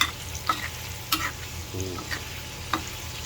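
Catfish pieces deep-frying in hot oil give off a steady close sizzle, broken by a few sharp crackles and pops, with no talk over it.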